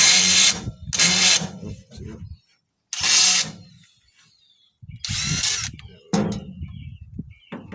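Bursts of a cordless power drill backing screws out of an aluminum screen door, several loud high whirring runs separated by pauses, with someone speaking between them.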